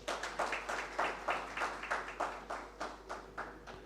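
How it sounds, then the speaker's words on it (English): A conference audience of insurance brokers in Uganda, in the room and online, applauds together in a steady, moderately loud round of clapping. The pulses come at a regular rhythm, with no voices over them. "Can I request that we give ourselves a big round of applause?"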